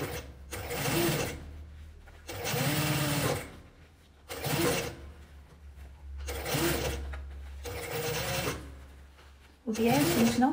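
A sewing machine stitches bias binding in repeated bursts of steady, close whirring, each run lasting about a second or two and separated by short pauses, with soft handling noises between runs.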